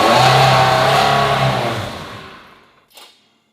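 A Ferrari that has not run in two years starts and revs loudly up close, then the engine winds down and stalls, fading out, followed by a brief faint clunk.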